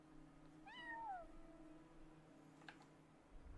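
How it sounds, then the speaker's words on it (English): A cat meows once in Genshin Impact, a clear rising-then-falling cry over a low steady game ambience, with a faint soft chime shortly after. "I heard a cat."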